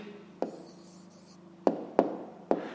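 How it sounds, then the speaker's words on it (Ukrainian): Pen writing down an answer on paper: a few sharp taps and short scratchy strokes, close and soft, spaced irregularly over a faint steady hum. "Пишемо відповідь."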